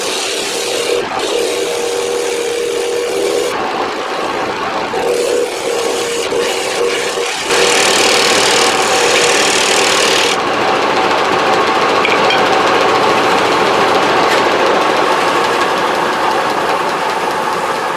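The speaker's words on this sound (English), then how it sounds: "Let me try gouging it." Gouge cutting a 12 inch yellow birch bowl spinning on a wood lathe, a loud continuous rumbling chatter with rough scraping texture that swells louder partway through, no voices.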